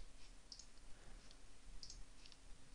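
Mouse clicks while working in Photoshop on a computer, a few faint sharp clicks at scattered moments over a low steady background hum, with no talking.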